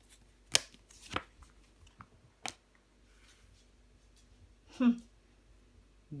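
Tarot cards are laid down and handled on a table, making a few soft, separate slaps and snaps with quiet pauses between them, close and fairly faint.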